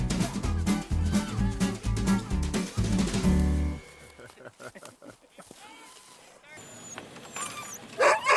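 Sled dogs bark and yip at the World Championship Sled Dog Race of the Anchorage Fur Rendezvous, a dense close chorus at first that thins to scattered yelps and whimpers, with a voice talking over it.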